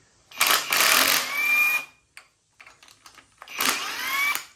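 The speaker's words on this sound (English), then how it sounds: "I'm gonna get some intake manifold bolts out of here" A power tool whirs in two loud, close bursts, removing intake manifold bolts from a 1965 Ford big block engine, with short clicks and rattles in the gap between bursts.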